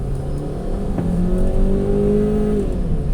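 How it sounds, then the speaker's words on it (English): A 2013 VW Tiguan with a low-power fault revs hard at full throttle while driving, its engine drone rising steadily in pitch, loud and close, with no talking. "listen to how much the engine is revving."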